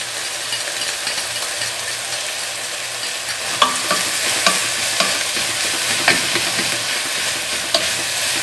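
Beef rump (maminha) sizzles steadily in a pot with onion, a loud continuous hiss broken by scraping stirs and sharp clinks of a utensil against the pot from about the middle on.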